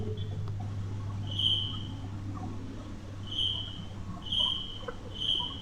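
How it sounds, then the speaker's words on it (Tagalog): Crickets chirp faintly at night in a cemetery, thin high trills in a few short bursts over a low steady hum, with no voices. "Maririnig yung kuliglig."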